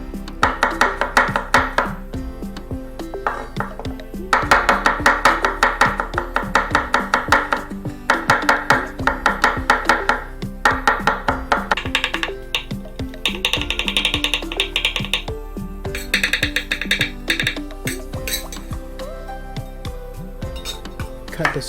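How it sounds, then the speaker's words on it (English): A knife chops garlic on a cutting board in rapid, steady strokes, the blade knocking loudly and rhythmically against the board, with a few short pauses between bursts. "Firstly, chop the garlic."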